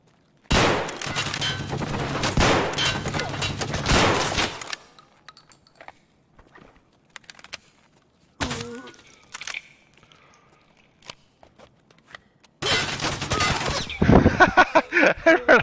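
Bursts of automatic gunfire and rapid shots crackle in an online shooter game, loud dense volleys at the start and end with quieter gaps of scattered clicks and footsteps between.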